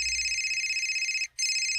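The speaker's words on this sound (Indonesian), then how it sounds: "Aku angkat telepon dulu." A telephone rings with a steady electronic tone, loud and close, that stops briefly near the end and then resumes, with no talking.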